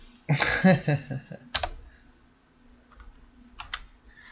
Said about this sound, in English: I was typing the wrong things